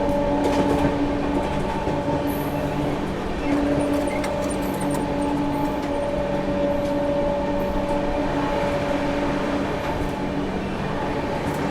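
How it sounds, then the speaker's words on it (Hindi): Inside the Bihar Sampark Kranti Express as it runs through Tundla Junction without stopping, a steady loud rumble of the coach carries a sustained tonal whine and faint rhythmic rail clatter, with no talk. "यहाँ पर अपनी ट्रेन ने स्किप कर दिया है टूंडला जंक्शन को"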